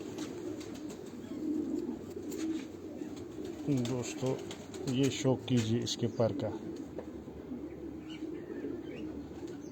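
Rooftop loft pigeons coo in a steady low chorus, joined by brief wing flaps, while someone talks over them in the middle of the clip.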